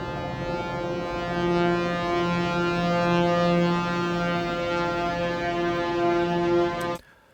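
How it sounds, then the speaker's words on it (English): A granular synth pad built in Minimal Audio Current for drum and bass, with its low end trimmed, holds a steady sustained chord of layered tones for about seven seconds, then stops abruptly. "quite quickly you've just got this nice kind of pad"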